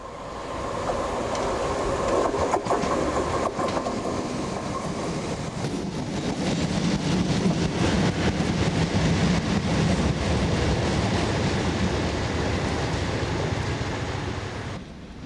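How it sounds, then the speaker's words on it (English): A passenger train pauses at Prestwick station in South West Scotland in 1996. A steady, loud rumble with rail clatter runs throughout and grows busier partway through. "We're approaching Ayr now, but first the trains pause at Prestwick."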